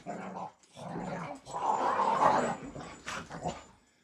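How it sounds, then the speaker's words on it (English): Dogs growling and whimpering up close, rising and falling in short bursts with brief pauses between snarls and whines. "She's going to sort these dogs out before it goes."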